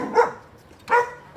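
A pet dog barks twice, close and fairly loud, the two sharp barks spaced under a second apart in a home setting.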